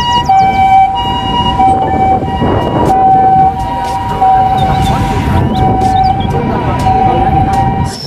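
A toy ambulance siren wails in a repeating two-tone pattern, loud and close, with faint rustling and handling noises underneath.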